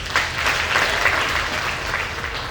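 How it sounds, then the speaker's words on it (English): An audience at a regional business event in Limpopo gives a round of applause, a full burst of many hands clapping that starts sharply and fades slightly over a couple of seconds. "Let's give him a round of applause."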